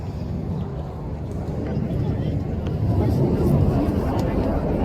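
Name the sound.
jet aircraft flying overhead at RAF Cosford airshow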